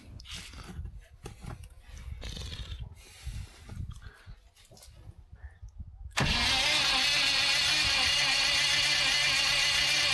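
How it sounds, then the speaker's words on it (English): An old abandoned bus engine with a suspected fuel delivery fault cranks in uneven, sputtering bursts for several seconds. It then catches suddenly into a loud, steady roar that holds to the end. "Okay, it almost started that time, but then it immediately died."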